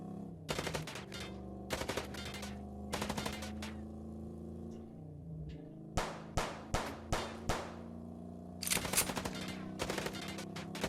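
Gunfire in the Chicken Police video game comes as sharp separate shots and short volleys over a steady background music drone, crisp and close.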